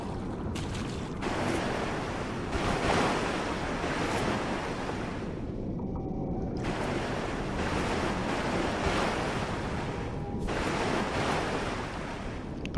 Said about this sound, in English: The water makes a weird noise when I'm moving through